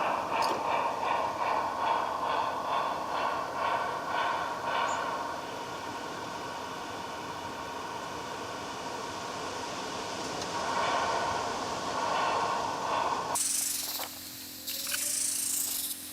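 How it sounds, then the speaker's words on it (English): Wagons on a light railway rumble and grind under a steady mechanical hum while being shunted onto the front of a train, with faint clanks early on and a sharper metallic burst near the end. "we see the second wagon being attached to the front of the train"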